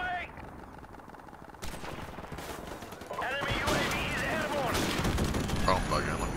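Gunfire in a Call of Duty–style shooter game: bursts and rattling shots that get louder and denser after the first few seconds, with game sound effects layered throughout.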